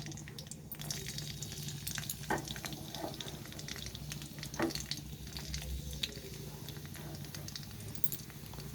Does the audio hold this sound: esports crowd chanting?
no